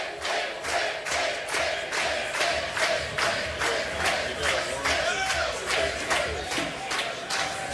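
Crowd at Bayside Bowl bowling alley in Portland, Maine, cheering and shouting in steady rhythmic waves, with repeated chant-like bursts and a constant roar filling the hall.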